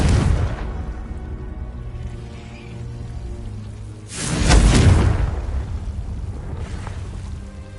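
Spell-cast explosions in Hogwarts Legacy: a loud burst at the start, a quieter stretch of rumbling ambience, then a second heavier boom with a deep low thud midway, decaying into a lingering rumble.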